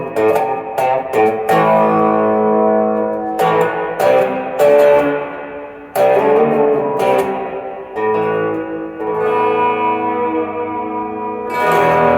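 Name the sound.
plate reverb effect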